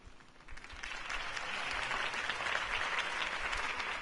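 Crowd applause from a political campaign rally in the video game Batman: The Telltale Series, a steady dense wash of clapping that swells in after a brief quieter start and holds loud throughout.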